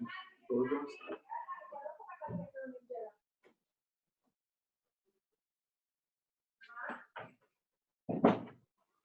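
A door is pushed shut after a stretch of talking and a pause, giving a couple of soft knocks followed by a firmer thud near the end, fairly close by.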